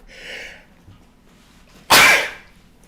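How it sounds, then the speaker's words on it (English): A single loud, sharp sneeze bursts out after a soft breathy sound, then quiet. "I knew the sneezing was going to come"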